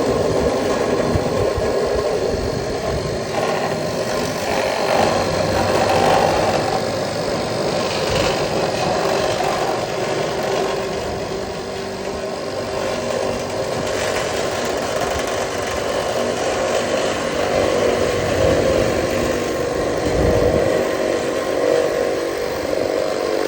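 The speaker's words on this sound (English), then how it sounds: "Turbo shear from Makita." A Makita turbo shear cutting metal at a custom home build site, a loud, continuous motor whine and grinding rasp running unbroken for over twenty seconds at close range, with no talking.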